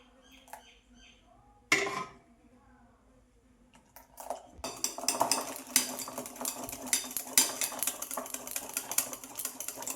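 Milk being mixed in a metal pot for sweet yogurt: a few faint clinks, then steady busy scraping and clattering of a utensil against the pot, close by.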